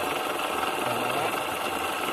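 A miniature crane machine's small motor running, a steady whirring buzz with a slight rattle, close and continuous without pauses, with no speech over it.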